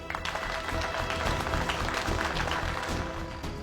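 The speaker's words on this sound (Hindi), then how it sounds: "एक बार तालियां हो जाए भाई" A gathered family audience applauds a newly introduced son-in-law, a dense wash of clapping holding steady for a few seconds.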